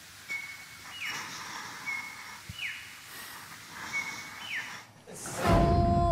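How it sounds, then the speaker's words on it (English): An eastern whipbird calls repeatedly in a bush setting, sharp rising whip-crack whistles sounding three times at a steady pace, fairly close, followed by a louder nearby rustle or burst of noise at the end. "Look here is one of our eastern whip birds. So, that's the male making that noise."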